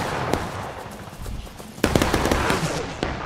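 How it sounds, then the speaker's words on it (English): Bursts of rapid gunfire crackle through a noisy battle scene in War of Rights, quieter at first, then a louder volley of sharp shots about halfway through. "We're under gunfire, sir."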